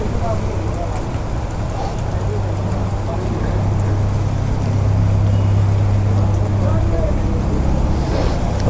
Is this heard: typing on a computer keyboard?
no